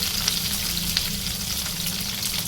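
Green chillies fry with salt in a pan, giving a steady, loud, close sizzle with a continuous crackling hiss and a few sharper pops, no voices.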